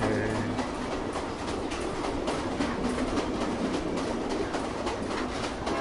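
A train rolls along rails with a steady rumbling clatter and faint rhythmic clicking, a constant moderate roar throughout.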